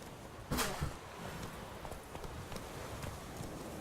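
Horse hooves clip-clop at a gallop in The Witcher 3, a quick run of soft, rhythmic thuds over a faint background.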